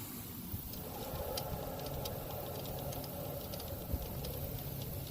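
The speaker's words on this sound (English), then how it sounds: "you can hear the bearing flopping around" A loose bearing rattles and knocks inside an Oshkosh 55000 transfer case during a teardown and diagnosis, giving a continuous, close mechanical churning with irregular clunks and no talking.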